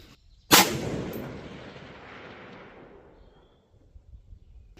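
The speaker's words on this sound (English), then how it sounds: "So it looked like the first shot went right." One sharp, loud rifle shot is fired through a night vision scope outdoors at night, followed by a long fading echo that rolls away over several seconds.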